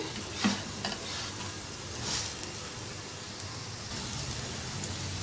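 Potato pancakes fry in oil with a soft, even sizzle and crackle, quiet and close, with a couple of faint clinks from handling the pan.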